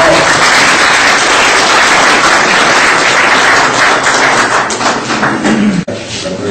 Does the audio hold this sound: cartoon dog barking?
no